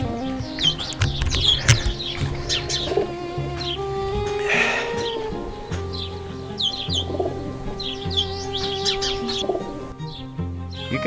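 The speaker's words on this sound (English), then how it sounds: "There is some pigeons there. Let's see those pigeons." Pigeons coo and chirp near traditional houses in Merzouga, Morocco, with repeated soft calls and brighter tweets plus a brief flutter of wings, fairly close over a low background hum.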